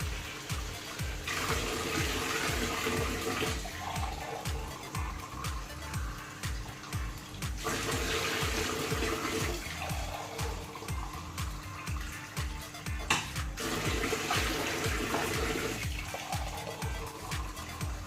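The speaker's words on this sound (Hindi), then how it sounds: "अब 2 किलो पानी मिक्स करेंगे।" Two kilograms of water poured into a pot of mutton biryani being cooked at home, heard as a steady rushing splash in several long pours separated by brief pauses.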